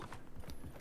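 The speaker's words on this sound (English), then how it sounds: "Get on the horse." Horse hooves clip-clopping in the Realm Royale video game, a quick run of hoofbeats, faint and brief, with no voices over them.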